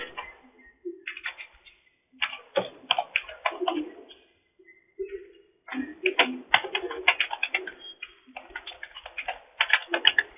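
An email is typed on a computer keyboard in irregular bursts of clattering keystrokes with short pauses, close and clear against a quiet background.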